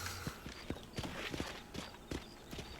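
Horse hooves clip-clopping in Red Dead Redemption, a steady walking rhythm of close, moderately loud thuds over faint background ambience.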